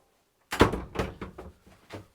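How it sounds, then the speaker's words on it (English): A cabin door on a Dufour 44 sailing yacht is pushed shut, giving a close, solid thunk after a moment of quiet, followed by a few softer knocks and rattles as it settles. "I'll just shut this door."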